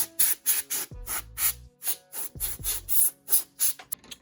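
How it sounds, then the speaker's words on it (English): Compressed air blasts dust out of a PS4 CUH-1001A console in a quick series of short, hissing bursts, about a dozen in rapid rhythm, close up with a couple of low thumps between them. "So I would recommend just taking this out first and then spraying it."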